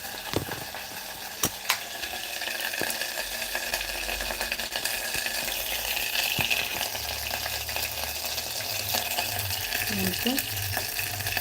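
Tomatoes frying in a little oil in a pan for a gourd chutney, a steady soft sizzle throughout with a few sharp clicks of a utensil early on, close and even in level.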